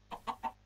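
A Minecraft chicken clucks three times in quick succession, short, clear and close, with nothing else audible.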